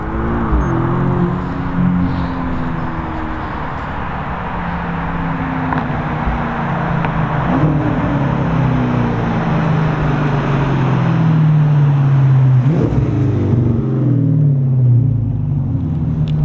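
A car engine with a raw, open straight-through exhaust drones and revs, pitch sweeping up and down as it moves past, loud and rumbling with no talk.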